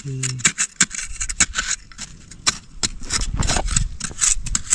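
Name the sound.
digging by hand in riverbank mud for a crab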